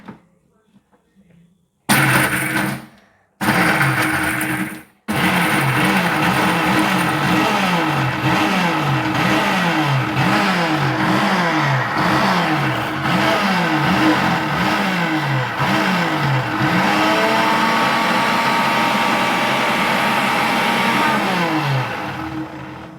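A mixer grinder pulverises Oreo biscuits into fine powder with a loud, sustained motor whine that pulses rhythmically, following a few short bursts at the start; no talk is heard over it.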